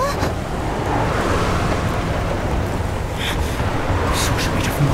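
Storm-driven waves crash against a ship in an animated fantasy series: a loud, continuous roar of surf and wind that swells in brief bursts throughout.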